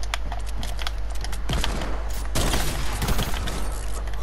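Rapid gunfire from a Fortnite match, loud and close, with dense bursts of shots that intensify in the second half amid game background noise.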